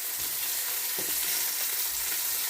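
Vegetables for a gluten-free vegetable lasagna cooking in a pan, giving a steady, loud, dense sizzle with a faint soft knock or two beneath it.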